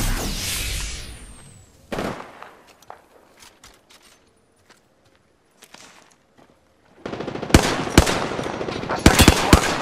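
A squad fires guns in repeated bursts: a loud volley at the start, scattered shots through a quieter middle, then dense, close rapid fire near the end.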